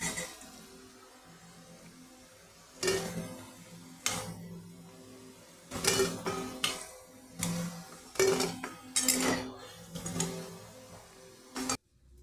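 Fried taro fritters being lifted from a pan, with scattered metallic clinks and scrapes of a utensil against the pan in irregular bursts, close and moderately loud over a quiet background.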